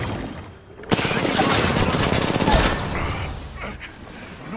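Rapid automatic gunfire in Apex Legends breaks out loud and close after a short lull, roars steadily for about two seconds, then thins into scattered fainter shots and mechanical clatter.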